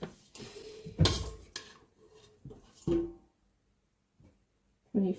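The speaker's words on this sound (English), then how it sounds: "Let's grab spoons." Metal spoons are grabbed from a kitchen drawer while baking a ginger cake: a few close, sharp clinks and rattles in quick bursts, separated by short quiet gaps.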